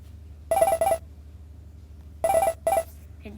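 Mario skid sound effect playing in a Scratch-made Mario game: two separate bursts of bright, warbling electronic tones, each made of a pair of quick pulses, heard clearly alone over a low steady hum.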